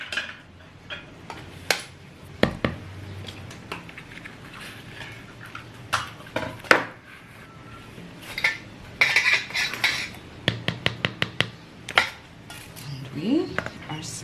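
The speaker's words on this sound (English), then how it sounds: "We are sieving." Metal spoon scraping and tapping against a sieve and bowl while sifting flour and baking powder for banana bread, irregular clinks and rattles scattered throughout with a person talking at times.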